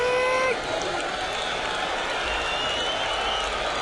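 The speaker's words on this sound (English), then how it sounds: "And a somewhat derisive cheer from those still left" A somewhat derisive cheer rises from the thinned-out crowd left at a baseball game, a steady broad roar of voices and scattered applause that holds for several seconds, with a brief tone at the start.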